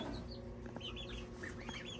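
Backyard chickens in a coop run cluck and peep softly: scattered short calls at close to mid distance over a steady low outdoor hum, with no talk.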